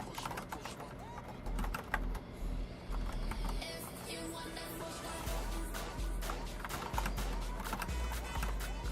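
Rapid, uneven clatter of keystrokes on a computer keyboard while coding in Django, continuous throughout with frequent sharp clicks, close and moderately loud.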